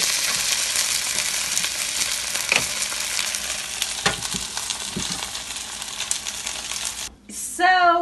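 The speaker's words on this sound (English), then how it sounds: "The sound of dumplings being cooked." Potstickers fry in a hot pan with a steady bright sizzle, dotted with occasional pops and clicks, loud and close, ending with a short gap and a brief tonal blip.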